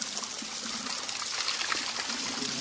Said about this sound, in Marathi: आणि पाण्याची बाटली भरतात सगळ्यांनी